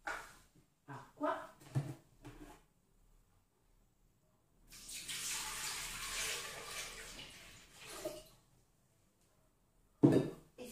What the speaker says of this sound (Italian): mettere nel boccale l'acqua ed il pizzico di sale che ci occorre